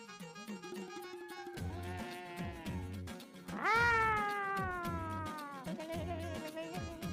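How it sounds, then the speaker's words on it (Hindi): A cat meows several times indoors, the middle call a loud, long, drawn-out wail, with shorter meows before and after. "आप खामखा डर रही थी बिल्ली की आवाज से।"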